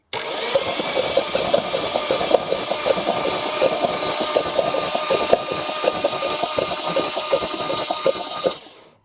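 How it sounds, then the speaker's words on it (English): A seized Jeep Wrangler engine is cranked over by the starter, a loud steady mechanical whir and rapid chugging that runs evenly and stops abruptly at the end. "It felt really good to get the engine spinning over"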